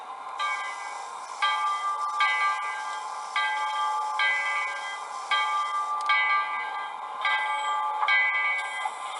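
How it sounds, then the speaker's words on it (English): A model locomotive's DCC sound decoder rings its bell in a steady series of bright, evenly spaced metallic strikes, each ringing on briefly, heard alone and fairly close. "We get the bell to work."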